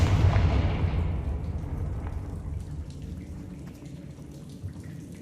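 A Confringo fire spell from Hogwarts Legacy lands as one booming blast that rolls away into a long, fading rumble, heard alone.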